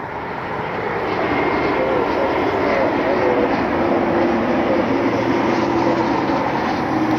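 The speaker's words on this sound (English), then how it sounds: "Then we got a Sherwin-Williams Falcon inbound." A Sherwin-Williams Dassault Falcon business jet comes inbound, a loud, steady engine roar with a faint whine that swells in the first second and then holds close, with no voices.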